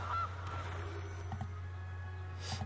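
A golden goose card in the video game MTG Arena lets out a few short, bright goose honks over a steady low electronic hum.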